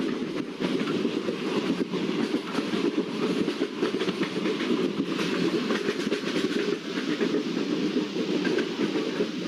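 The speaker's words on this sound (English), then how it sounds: "let's slow down our train and let's apply the brakes of the locomotive" A Prateek WDP4B diesel locomotive hauling the Haridwar–Udaipur City Express slows on the approach to Chittorgarh junction, giving a loud, steady rumble of rolling coaches with continuous clickety-clack of wheels over rail joints throughout.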